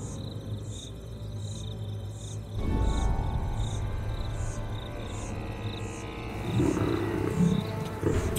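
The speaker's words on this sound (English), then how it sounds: "The thundering sound of a lion defending its territory can be heard from 8 kilometers away." Deep, rumbling lion roar rising after a quiet start, heavy and resonant, with insects chirping steadily in the background throughout.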